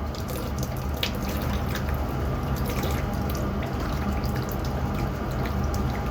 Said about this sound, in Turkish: Şimdi buradan dolan su makine buradan boşaltıyor.